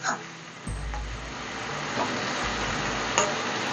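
Small tangra fish fry in hot oil that spatters steadily, a dense continuous crackle with a few sharper pops and a low rumble underneath, with no voices.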